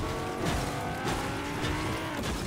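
A car engine drones continuously in the video game Fortnite, a loud, dense, steady roar with faint tire noise, and no talk over it.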